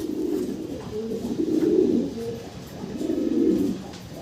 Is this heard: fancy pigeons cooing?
yes